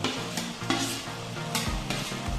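Ginger garlic paste added to browned onions, frying over a low flame and stirred in a pan: close steady sizzling with repeated scraping strokes of a spatula, no voices.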